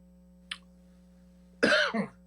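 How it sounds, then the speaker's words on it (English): A brief throat sound, then a single loud cough with a short second burst, close and clear over a quiet hum. "The thoughtful cough there"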